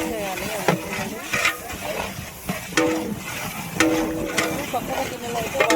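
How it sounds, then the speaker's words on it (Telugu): Spoon scraping and stirring food frying in a pot for village-style mutton biryani, sharp repeated clinks and scrapes over a soft sizzle, with voices talking in the background. "మాడిపోకుండా చూసుకుంటూ బాగా మిక్స్ చేయాలి."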